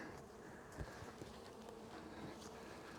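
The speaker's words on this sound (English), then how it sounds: "Lots of bees up there." Honey bees buzz steadily at an open hive, a dense continuous drone close by with a few brief bumps and knocks from handling the hive covers.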